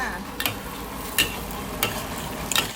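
Sliced garlic and shallots fry in hot oil with a constant close sizzle, broken by a few sharp scraping stirs at intervals.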